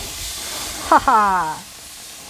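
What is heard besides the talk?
chicken sizzling on a hot grill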